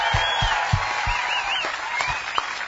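Crowd applause at a Bassmaster Elite bass fishing tournament weigh-in on Cayuga Lake, a few sharp claps over a steady wash of crowd noise with a warbling tone running through it.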